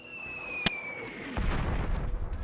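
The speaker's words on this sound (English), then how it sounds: "The cannon's firing." A sharp boom from a cannon in the video game Warhammer: Dark Omen, followed by a rumbling barrage of heavier blasts and noise.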